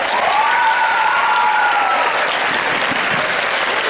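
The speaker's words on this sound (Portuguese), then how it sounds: "Salva de palmas para os atletas." Applause for wrestling athletes at a school presentation, a loud, sustained roar of many hands clapping from a crowd, with a brief whistle-like tone rising through the first couple of seconds.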